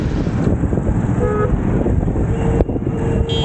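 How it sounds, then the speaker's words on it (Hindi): A 29 Motors Elver electric scooter's horn toots briefly twice over steady traffic and wind rumble, fairly close by. "हॉर्न भी काफ़ी अच्छा साउंड कर रहा है"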